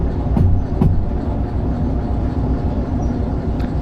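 A train in Derail Valley 2 drives with a steady, loud rolling rumble. A couple of brief knocks sound early on, and a faint high tone passes near the end.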